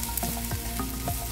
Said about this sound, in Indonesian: lalu tumis bawang merah dan bawang putihnya yang sudah dicincang